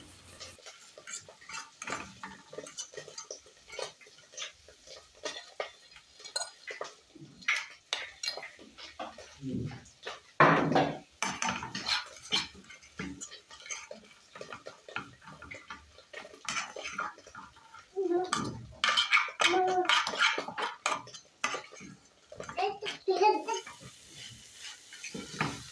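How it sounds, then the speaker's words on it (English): Fried omena, small dried fish, stirred in a pot with onions: repeated close clinks and scrapes of a spoon against metal over a soft sizzle, irregular bursts of stirring with no talking. "We're going to add our fried omena, stir, and that is it, guys, for the wet fried omena."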